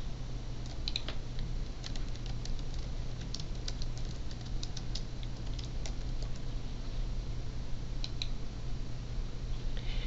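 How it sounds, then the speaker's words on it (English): Light keystrokes and mouse clicks tap at an irregular pace on a computer keyboard, quiet and close, over a steady low electrical hum with no talking. "So you would type in your first, middle, and last name and click on Continue."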